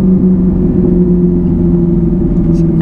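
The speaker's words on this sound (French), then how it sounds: "même sans accélérer, parce que là regarde, on est à 2000 tours, il y a un bruit de résonance qui est énorme dans la voiture" Cabin interior of a Ferrari 458 Italia, its V8 idling near 2000 rpm without acceleration, giving a loud, steady, booming low resonance that fills the car throughout.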